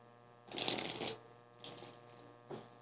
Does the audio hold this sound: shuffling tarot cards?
yes